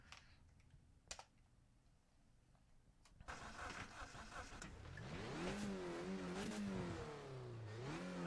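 A race car engine in the racing game Assetto Corsa Competizione, heard after a few sharp clicks. The engine starts and then climbs and dips through repeated revs, loud and close, with no talking.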